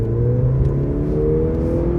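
A Mercedes-Benz C300 with a four-cylinder gasoline engine revs in sport mode, a loud, steady, rising drone heard from inside the car, no talking.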